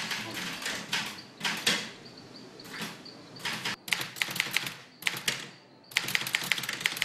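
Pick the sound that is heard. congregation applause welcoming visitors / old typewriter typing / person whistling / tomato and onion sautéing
old typewriter typing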